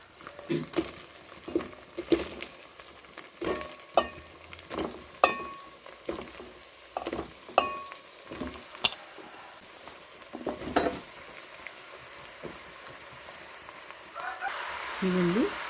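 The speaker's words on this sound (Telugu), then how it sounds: "ఇప్పుడు మనం దీనిలో ఆనమకాయ ముక్కలు వేసుకుందాం" Bottle gourd pieces frying in a pan, a soft sizzle under repeated sharp scrapes and clinks of a spoon stirring, close and moderately quiet, with someone talking over it.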